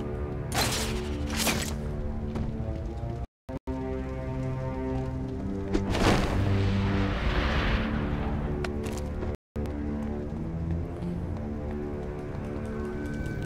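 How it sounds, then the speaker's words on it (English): An explosion in the video game Batman Arkham Origins Blackgate erupts as a heavy rumbling burst over a droning musical score, swelling and fading over a few seconds. "A controlled explosion."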